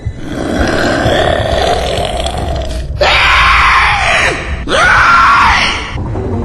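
Monster in a Spanish zombie-apocalypse audio drama: a long guttural growl, then two loud, close, sweeping screaming roars, each rising and falling sharply and separated by a brief pause.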